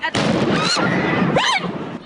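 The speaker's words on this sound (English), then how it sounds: "A huge explosion rips through the crowds near the finish line." A huge blast tears through the crowds near the Boston Marathon finish line, a loud, dense roar of noise filling the scene alongside shouting and screaming voices for about two seconds.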